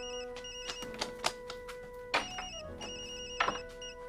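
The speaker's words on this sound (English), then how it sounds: "As soon as I heard the phone," A telephone bell in a cartoon show rings in bright, repeated bursts over a steady tonal hum, with a couple of sharper chiming strikes standing out. No one speaks.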